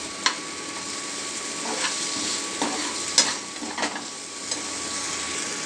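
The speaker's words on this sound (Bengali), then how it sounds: "আমি মুসুরির ডালটাও দিয়ে ভাজবো।" Red lentils (masoor dal) frying in a pan with salt, turmeric and kasuri methi, a steady sizzle broken by scraping and stirring taps close to the pan.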